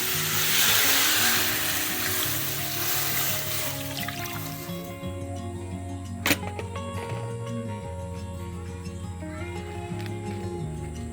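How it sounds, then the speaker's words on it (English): Broadband rushing splash of three cups of water pouring into a pot for several seconds, then settling into a quieter trickle with a faint background hum. "And then we are going to add our 3 cups of water."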